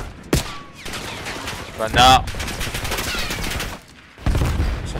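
Gunfire from a Call of Duty League esports match, sharp bursts of automatic fire and single shots cracking through the game audio, with a caster talking over the action.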